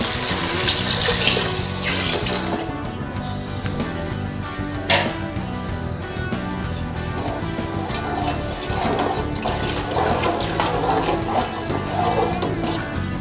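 Water pours steadily into a cooking pot for egg biryani, a continuous splashing stream that shifts slightly in tone as it fills.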